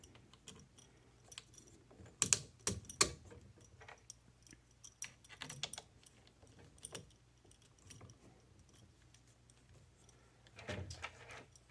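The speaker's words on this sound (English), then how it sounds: "I'm going to put all 4 screws in." Small screws being fitted through the aligned holes of a Bixpy Universal Kayak Adapter mount, heard as scattered close metallic clicks, taps and rattles at an uneven pace with quiet gaps and no talking.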